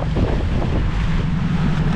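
A motorboat out at sea, used in tuna fishing, runs under steady, loud wind buffeting and wave wash. The engine hum continues throughout the close, noisy scene.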